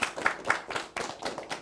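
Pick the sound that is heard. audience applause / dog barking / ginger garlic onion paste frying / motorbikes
audience applause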